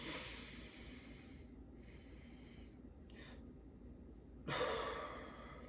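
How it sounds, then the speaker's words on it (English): Slow breathing exercise with audible exhales and inhales, a long breath out followed by short airy intakes and a stronger breath near the end, close and alone. "Extend your stomach and exhale."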